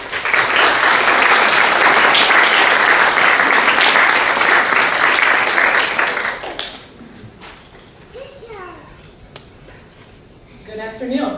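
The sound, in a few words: audience applause welcoming the speaker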